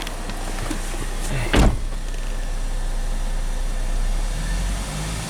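A Chevy Equinox engine holds a steady RPM with its intake and exhaust cam actuators unplugged, giving a constant low, even drone with one brief louder bump early on; no voices.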